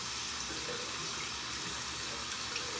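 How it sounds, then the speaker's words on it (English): A bathroom tap runs steadily to rinse a razor after shaving, a constant close hiss of flowing water with no break and no voices. "Just turn on the water."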